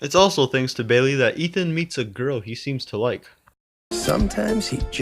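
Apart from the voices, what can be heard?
No distinct noise like a dog, phone or traffic.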